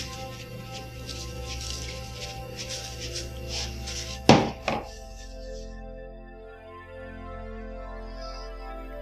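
A knife cuts pieces off pork ribs on a board, giving one or two sharp, close chopping knocks partway through against faint background hum, with no talk.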